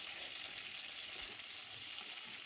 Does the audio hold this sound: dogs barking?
no